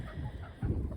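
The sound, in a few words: chickens clucking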